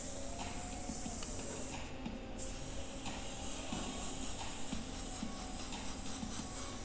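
Airbrush spraying red paint, lightly fading it in around a stenciled demon figure; a steady, close, continuous hiss that runs throughout with slight variations in pressure and no pauses.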